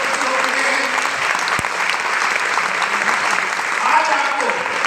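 Loud, steady applause from an event audience runs throughout, thick and sustained, with crowd voices blended underneath.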